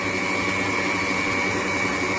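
Ariceck N4 vegan milk maker running while making almond-peanut milk, a steady loud motor whine with a constant hum and no breaks, heard alone.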